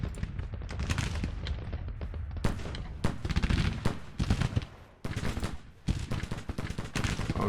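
Dense, continuous gunfire from massed Civil War infantry units in the video game Grand Tactician: The Civil War, rapid overlapping shots and heavier bursts, loud and chaotic like a battlefield, with no pauses.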